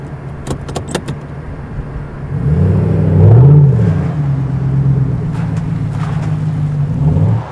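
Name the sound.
Rally Fighter car driving during brake testing in water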